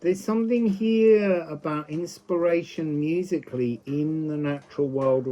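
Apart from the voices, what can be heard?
No distinct noise like a dog, phone or traffic.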